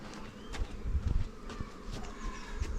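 Bees buzzing around a hive a couple of weeks after a shook swarm, a steady close drone with scattered louder passes of individual insects near the microphone.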